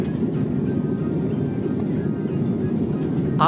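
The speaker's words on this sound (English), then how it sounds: "The wheels have kissed the tarmac, signaling the end of our airborne adventure." An AirAsia airliner rolls along the runway just after touching down, heard from inside the cabin as a loud, steady low roar of engines and wheels with a brief rattle at the end.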